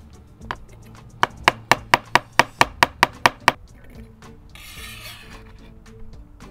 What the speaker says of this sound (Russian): Маринованные огурчики тоже измельчаю.